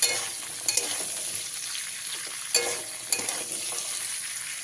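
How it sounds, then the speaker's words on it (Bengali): Chopped capsicum and peas frying in oil in a pan for a restaurant-style mixed vegetable dish, a steady close sizzle broken by several sharper stirring scrapes and clinks of a spatula. "এর মধ্যে দিয়ে দিতে হবে কেটে রাখা ক্যাপসিকামগুলো তারই সাথে দিয়ে দিতে হবে মটরশুঁটিগুলো দিয়ে আবারও দুই থেকে তিন মিনিট ভালো করে ভেজে নিতে হবে"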